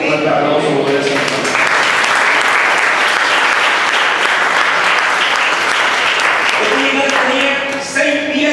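A church congregation breaks into loud applause for the Lord, heavy clapping that swells and holds, with a voice speaking over it at the start and again near the end.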